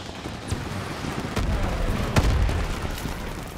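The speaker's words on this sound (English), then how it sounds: "Lobbing a grenade!" Grenade explosion in the Call of Duty WW2 campaign mission on the Rhine, a few sharp blasts and booms over a continuous rumbling battlefield din.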